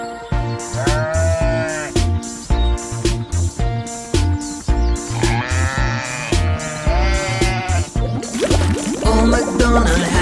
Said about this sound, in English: And on his farm he had a sheep, E-I-E-I-O. With a ba-ba here and a ba-ba there